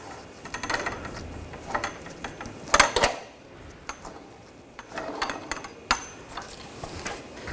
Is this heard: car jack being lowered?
yes